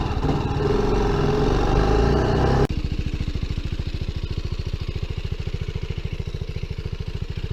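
A BMW G310GS Rallye motorcycle engine heard close up off road. It drones loudly and steadily under throttle, then suddenly drops to a rhythmic, thumping single-cylinder idle.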